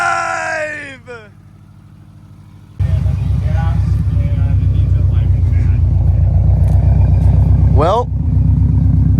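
A track car with a freshly installed clutch fires up and settles into a loud, steady idle rumble close by, running continuously after a brief quiet moment, with a short voice over it near the end.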